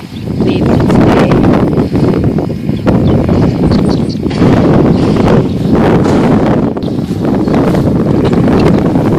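Strong wind buffets the microphone in loud, gusting roars that rise and fall throughout, with no talking.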